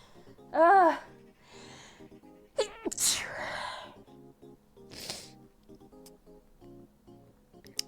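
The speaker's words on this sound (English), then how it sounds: "I'm gonna sneeze again." A sharp sneeze bursts out near the start, followed by a few quieter voice sounds and small noises, with another breathy burst midway.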